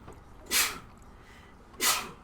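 Two sharp sneezes, a couple of seconds apart, close and fairly loud against a quiet background.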